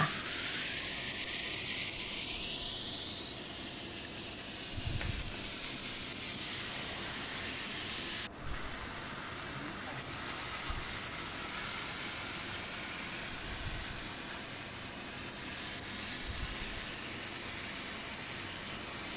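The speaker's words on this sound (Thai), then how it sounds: "นำหมูสับลงไปผัด บางคนจะเรียกว่าคั่วค่ะ เราไม่ได้ใส่น้ำมันเลยนะคะ" Minced pork stir-fried in a pan with no oil added, a steady, close sizzling hiss that runs on continuously with faint scraping underneath.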